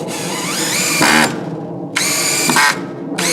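A power drill drives screws into a 2x4 while a greenhouse door is being fitted, giving three close, loud whirring bursts, each rising in pitch and then cut off by short pauses.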